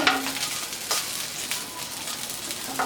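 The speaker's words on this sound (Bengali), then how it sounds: "চিকেন বলগুলো কিন্তু ভাজা হয়ে গেছে সুন্দর একটা কালার আসছে" Chicken balls frying in hot oil make a close, steady sizzle and crackle, with a few brief stirring scrapes.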